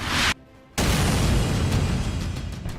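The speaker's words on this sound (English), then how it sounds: "you can drop what they call a dumb bomb, which isn't guided, and you know, still have a great effect" An unguided dumb bomb dropped by a Marine Corps Hornet explodes with a loud, close boom, cutting briefly to near-silence before a long, rumbling blast roars on and slowly fades.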